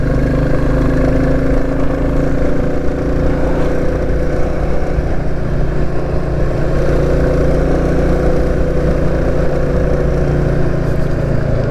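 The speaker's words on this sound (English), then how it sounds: "because of the torque on this bike, it just sort of like chugs up really" A Royal Enfield Classic 350 motorcycle chugs uphill on a ride near St Eval and Mawgan Porth, its single-cylinder engine giving a loud, steady, low thumping drone mixed with wind rush throughout.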